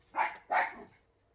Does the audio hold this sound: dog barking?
yes